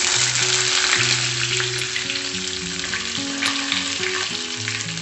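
Curry leaves hit hot oil in a pan with mustard seeds and urad dal for lemon rice, giving a loud, dense, continuous sizzle and crackle under background music.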